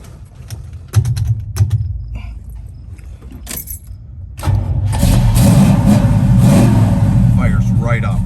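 A 1972 Chevrolet Nova cranks and starts after a few clicks and rattles, then settles into a loud, rumbling idle with a light rev, heard up close, with someone speaking briefly before it fires.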